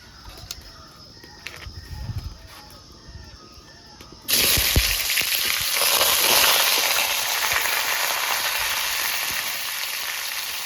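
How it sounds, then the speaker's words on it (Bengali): Raw mango pieces hit hot mustard oil in a pan, a sudden loud sizzle that erupts midway and keeps hissing steadily, preceded by quieter kitchen clatter and birds chirping in the background. "তেল গরম হয়ে গেছে, এবার আমগুলোকে ভেজে নেব।"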